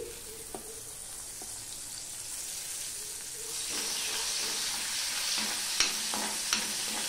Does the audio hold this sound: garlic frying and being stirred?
yes